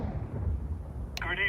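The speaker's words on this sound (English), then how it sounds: "Throwing a grenade." A grenade goes off in a Counter-Strike match, a deep rumbling blast rolling through the low end for over a second, followed by a sharp metallic burst and ringing tail near the end.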